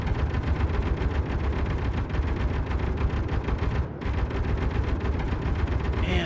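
Relentless, dense rapid gunfire from drones in an underground survival game, loud and continuous bursts of shots with a brief pause near the end, no talk.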